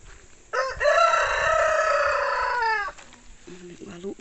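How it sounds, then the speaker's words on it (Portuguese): A rooster on a rural smallholding in Pernambuco, northeastern Brazil, lets out one long, loud crow close by, followed by a few softer clucking notes. "O galo hoje tá animado, viu,"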